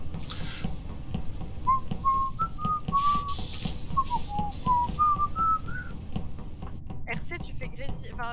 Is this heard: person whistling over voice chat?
yes